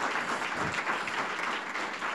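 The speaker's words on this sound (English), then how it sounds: "Give her a big round of applause." An audience applauds a community librarian at a book-program kick-off event, a dense, steady round of clapping throughout with no talk.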